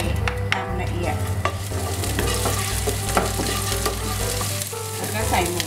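Coriander root, garlic and pepper stir-fried in oil in a pan, a loud, continuous close sizzle with frequent scraping stirs.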